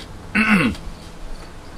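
A single short, gravelly throat clearing close to the microphone, followed by quiet room noise.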